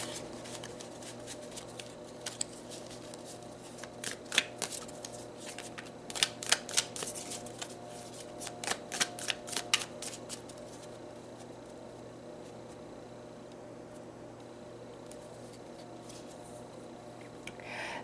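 Tarot cards are shuffled in short, crisp riffling bursts scattered through the middle of the stretch, close and fairly quiet over a low steady room hum, with quiet pauses between the bursts.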